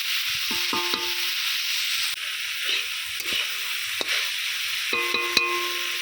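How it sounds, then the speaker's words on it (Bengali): Banana flower, potato and eggplant frying together in a pan, a continuous hissing sizzle with occasional spatula scrapes and a few clinking metallic taps, close and without talk. "সব কিছু খুব ভালো করে ভেজে নেবো"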